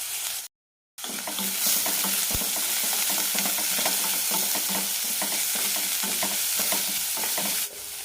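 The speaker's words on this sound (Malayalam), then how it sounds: "കൂടെ തന്നെ ഇഞ്ചി, വെളുത്തുള്ളി, പച്ചമുളക് അരിഞ്ഞതും നന്നായി വഴറ്റിയെടുക്കാം." Chopped onion, curry leaves, ginger, garlic and green chili sauté in a hot pan with a steady, bright sizzle. Frequent stirring scrapes run through it after a short moment of silence near the start.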